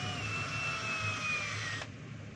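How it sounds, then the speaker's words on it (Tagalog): A screw being tightened on a DeWalt D25481 5 kg demolition hammer, a steady close whirring motor whine that holds for about two seconds and then cuts out, with no talking. "Tapos higpitan natin yung screw."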